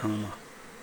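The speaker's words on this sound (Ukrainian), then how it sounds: "Бджола працює на акації." Honey bees working acacia blossoms buzz steadily close by, a loud droning hum with harmonic tones that fades slightly after a moment.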